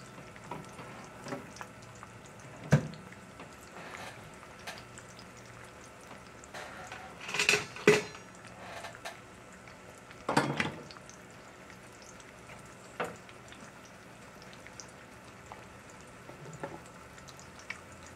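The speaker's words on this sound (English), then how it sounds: "I'm going to check this bacon one more time. Oh yeah, it's cooking up really good." Thick bacon frying in a pan: a low, steady sizzle with faint crackles and a few louder pops and spatters scattered throughout, with no talking.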